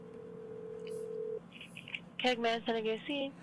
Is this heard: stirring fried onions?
no